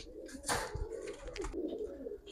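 Giribaz pigeons, black-necked silver birds, coo in low, throaty bursts at close range, with a brief louder rustle early on and no talking.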